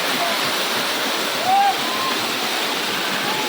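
Bilpudi waterfall roars as a steady, dense wash of falling water, broad and continuous throughout, with a faint voice briefly rising over it near the middle.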